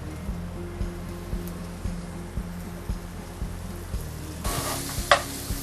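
Sausage frying in a pan with shallot, a steady bright sizzle broken by regular soft rhythmic thumps, then a louder burst of crackling hiss near the end.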